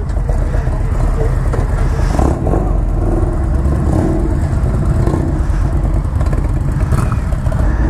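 A 2019 Indian Chieftain motorcycle engine runs with a loud, steady, close rumble. Its low drone holds throughout without clear revs or pauses.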